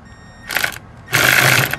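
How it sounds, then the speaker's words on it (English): Electric ratchet backing out screws during spark plug replacement on a Smart ForTwo, two loud close buzzing bursts of the running tool separated by a short pause. "I just prefer the electric ratchet because it's faster"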